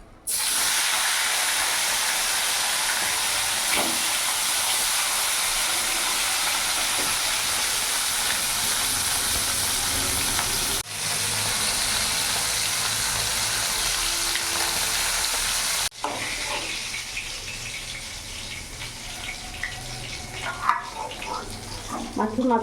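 Tilapia fish heads fry in hot oil with a loud, steady crackling sizzle that holds for the whole stretch, dipping briefly a couple of times and turning more sputtery and uneven toward the end.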